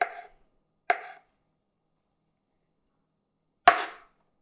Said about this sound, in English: take these crab meat sticks and you're just going to cut like this, just like rounds